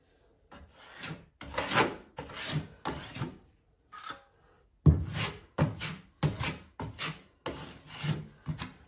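Putty knife spreading and blending drywall setting compound on a wall during a repair, a series of close scraping, rasping strokes in rhythmic bursts with brief pauses between them.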